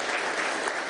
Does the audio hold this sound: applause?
yes